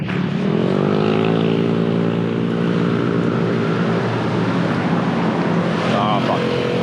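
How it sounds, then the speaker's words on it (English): A motorbike engine drones steadily on a busy street in Phuket, Thailand, its pitch rising and falling slightly as it passes nearby amid traffic noise. "That motorbike is too slow"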